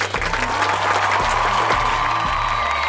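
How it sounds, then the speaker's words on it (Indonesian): Crowd applause and light cheering in the Sakura School Simulator game follow a Halloween stage performance, a steady synthetic wash of clapping over a low sustained musical tone. "Beri tepuk tangan untuk Felicia."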